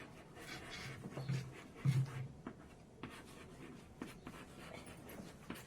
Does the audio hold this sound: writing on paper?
yes